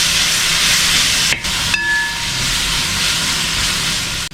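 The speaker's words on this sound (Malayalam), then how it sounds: "ഇനി ഇതിലേക്ക് നേരത്തെ അരച്ചു വെച്ചിട്ടുള്ള അരപ്പില്ലേ, അതിട്ട് കൊടുക്കുകയാണ്. അപ്പോൾ ഇതിനെ നന്നായിട്ട് വഴറ്റിയെടുക്കാം." Ground masala paste sautéing with browned onions for chicken biryani, giving a loud, steady sizzle with a brief clatter and a short tonal squeak partway through.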